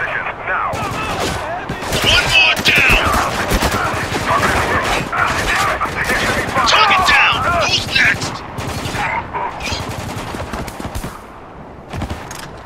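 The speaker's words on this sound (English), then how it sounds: "Taking heavy fire!" Heavy gunfire in Spec Ops: The Line, with rapid machine-gun bursts and overlapping shots forming a loud, dense barrage that runs almost without a break and eases slightly near the end.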